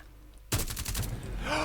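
Rapid automatic gunfire bursts out suddenly in a Rainbow Six Siege match, a loud, dense volley of shots continuing without pause after a quiet moment.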